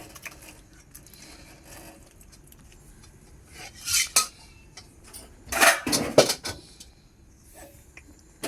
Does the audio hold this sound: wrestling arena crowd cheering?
no